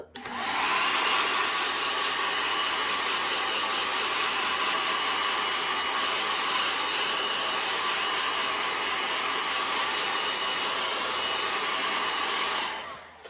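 A heat tool blows steadily to warm and dry a chalk transfer on a board, a continuous loud airy whoosh like a hair dryer, running alone for about twelve seconds before switching off.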